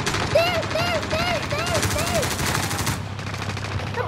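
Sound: gunfire in Call of Duty: Modern Warfare video game

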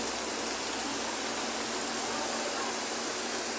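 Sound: heavy rain in Fortaleza

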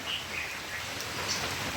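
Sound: heavy monsoon rain

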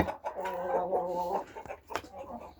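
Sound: chickens clucking while feeding

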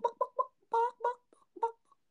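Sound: person imitating a chicken's clucking

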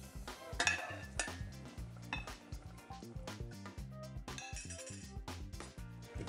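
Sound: stirring risotto in a pot

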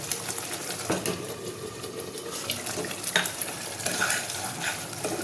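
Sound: potatoes stir-fried in spice paste for rohu curry

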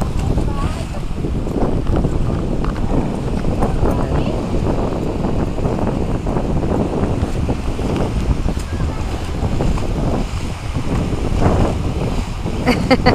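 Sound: big ocean waves at the beach

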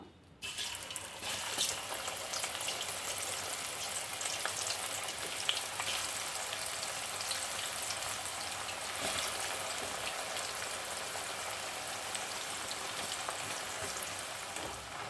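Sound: banana chips (upperi) frying in oil

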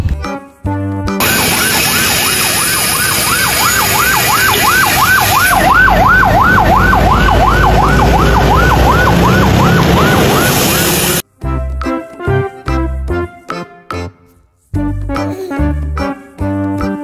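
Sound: ambulance siren

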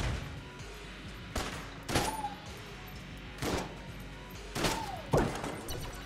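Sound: gunfire in the video game Enter the Gungeon

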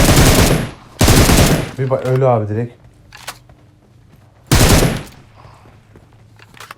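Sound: machine gun fire in a video game

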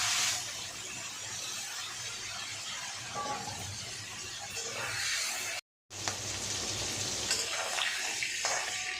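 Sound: rohu fish heads frying in oil

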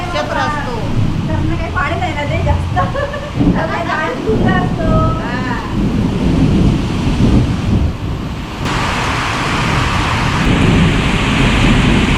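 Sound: thunder and heavy rain

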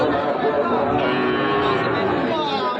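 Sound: Sahiwal cattle mooing at cattle market

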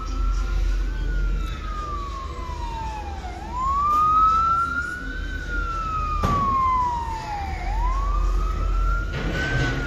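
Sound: ambulance siren passing

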